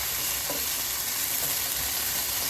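Jalapenos and garlic fry in a pan for vegan sloppy joes, a steady close sizzle with faint crackle that runs unbroken, with no voices.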